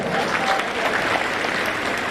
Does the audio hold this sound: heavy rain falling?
no